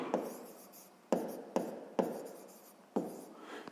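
A pen or pencil writes on paper during a maths exercise, in soft scratchy strokes broken by five sharp taps where the tip lands, close and quiet with no voice.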